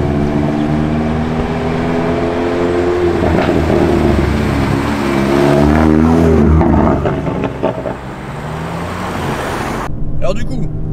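A Hyundai i30N Performance hatchback's 2-litre turbocharged engine accelerates hard, its loud droning note climbing in pitch through the gears over about ten seconds, with a voice briefly audible in the background.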